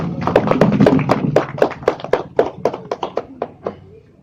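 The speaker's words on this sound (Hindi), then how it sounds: "उनके लिए एक जोरदार ताली होना चाहिए" An audience claps together at an event in India, a dense run of close, sharp hand claps that thins out toward the end, with no talking.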